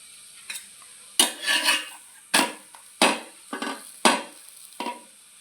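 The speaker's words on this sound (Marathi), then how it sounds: "दोन्ही साईडनं आपल्याला मस्त असं थालीपीठ भाजून घ्यायचं आहे" Spinach thalipeeth flatbread roasting in oil on a pan, with a series of sharp scraping and tapping strokes at irregular intervals over a faint steady sizzle.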